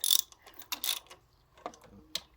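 A ratchet wrench tightens the EGR valve bolts in a cross pattern on an Opel Zafira B 1.7 CDTI, giving a few short clicking bursts with quiet gaps between them, close and fairly soft.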